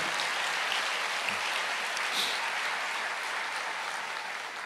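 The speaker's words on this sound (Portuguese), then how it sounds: "Aplauda o Senhor" A church congregation applauding, dense and sustained clapping from a large crowd that holds at an even level throughout.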